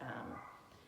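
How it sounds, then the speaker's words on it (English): A dog barks once or twice in a brief, fairly faint burst, with no talking. "I bet you can hear my dog barking."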